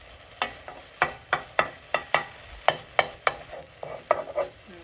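Spoonfuls of ground meat dropped one after another into a preheated frying pan to form burger patties, a rapid series of sharp clinks and taps over a constant hiss of frying, close by.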